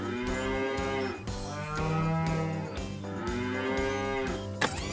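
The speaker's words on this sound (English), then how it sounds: "We've got you mooing like a cow." A cartoon cow moos in a children's animated garage show with trucks, two long drawn-out lowing calls, loud and close, over a steady musical background.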